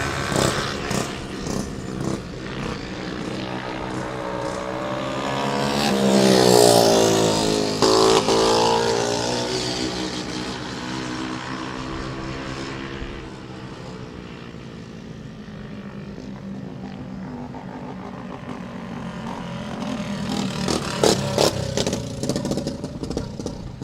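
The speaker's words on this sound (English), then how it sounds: "Still 2 more karts to qualify in the bomber class. They're rolling onto the track now." Racing karts in the bomber class roll onto the track at Golden Spike Speedway in Blue Earth, Minnesota, engines droning loudly and steadily, swelling as they pass near and staying prominent throughout.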